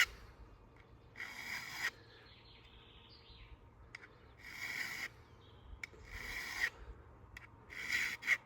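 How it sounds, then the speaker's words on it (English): A Mora Classic No. 2 knife blade is pushed along foil to raise a burr, giving short scraping strokes in separate bursts, close and fairly quiet, with faint birdsong in the background. "I'm pushing with this foil now to create that burr"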